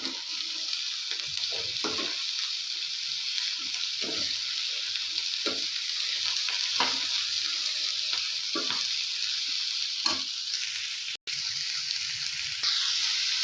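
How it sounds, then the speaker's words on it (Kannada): Cut green beans frying in a pan for a hotel-style beans palya, a steady bright sizzle with scattered soft stirring knocks, close and alone, ending with a brief sharp click. "ನೋಡಿ, ಬೀನ್ಸ್ ಎಲ್ಲ ಚೆನ್ನಾಗಿ ಫ್ರೈ ಆಗ್ತಿದೆ."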